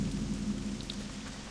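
Steady soft rain hiss from the World of Warcraft: Legion game world, a continuous wash of falling rain with a low ambient hum beneath and a couple of faint chimes, no voices.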